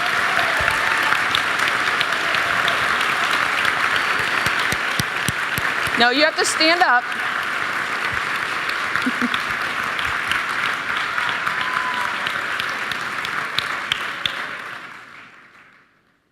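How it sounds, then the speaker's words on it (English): Sustained audience applause fills a convocation ceremony hall, dense steady clapping from a large crowd for over a dozen seconds before fading out, with a voice briefly speaking over it. "Let's give them a round of applause."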